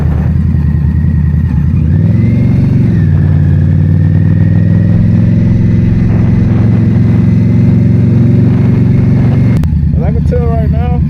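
An Indian Scout Bobber motorcycle underway, its steady engine drone holding a low rumble with a slight rise in pitch early on, loud and close, with a brief rattle near the end.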